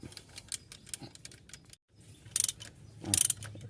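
Hand ratchet clicking in short bursts while tensioning the air-conditioning belt idler on an Isuzu D-Max, with a brief silent pause between turns and louder ratcheting passes near the end.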